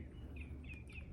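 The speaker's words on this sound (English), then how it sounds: "Do you guys hear the beautiful birds sing?" Faint, thin bird chirps repeat a few times over a low, steady background hum, sounding distant.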